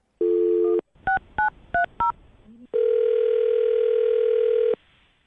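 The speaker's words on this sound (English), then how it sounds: "I'm going to dial her phone number" Telephone dialing a number for a radio show call: a steady dial tone, then four quick touch-tone beeps, a short blip, and a long ringback tone, all clean and loud.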